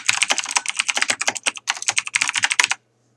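Fast, steady typing on a computer keyboard, a rapid run of close, crisp key clicks with two brief pauses before stopping.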